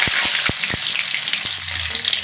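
Whole cumin and bay leaves drop into hot oil already holding darkened dried red chilies, starting with a few sharp thuds and pops, then settling into a bright, steady close-up sizzle without talk.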